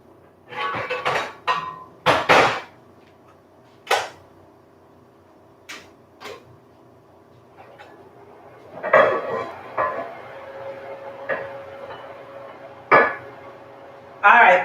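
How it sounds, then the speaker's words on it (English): A skillet is lifted off a stove burner, bringing a series of loud metallic clanks and knocks in scattered bursts, with some quiet gaps between them. "Let me get this skillet off of here."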